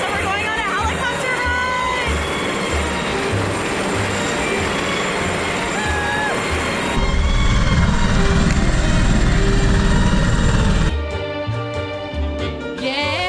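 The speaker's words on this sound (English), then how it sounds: "so we're going on a helicopter" A helicopter at Niagara Falls roars with a loud, steady rumble that swells even stronger midway and then eases, while people talk over the engine noise.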